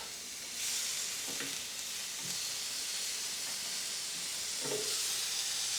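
A sous vide pork chop sizzles on a hot grill after being flipped, a steady close hiss with a few faint scrapes and taps.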